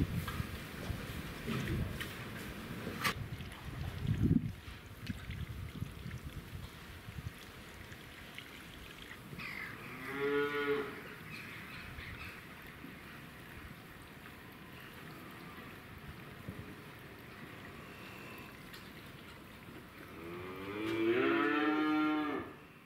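Cattle mooing in a farmyard with caravans and houses nearby: two drawn-out moos, one near the middle and a louder one near the end, at moderate distance over a steady outdoor hush.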